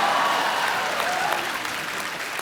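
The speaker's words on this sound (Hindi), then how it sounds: "मेरे कुर्ते के लिए जोरदार तालियां" A television comedy studio audience bursts into loud, dense applause that fills the moment, then tapers slightly toward the end.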